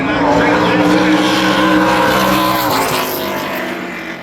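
An ARCA Menards Series race car lapping Berlin Raceway during qualifying, a loud sustained engine roar that shifts in pitch as it passes, with commentary voices underneath.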